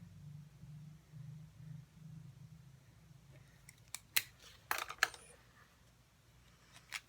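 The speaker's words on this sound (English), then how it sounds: "I'm just going to cut it down a little bit more." Scissors snip through a small piece of paper for a handmade Halloween card, a few sharp crisp cuts in a quiet room after a low hum, close and clear with no talking.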